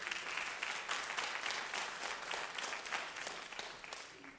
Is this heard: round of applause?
yes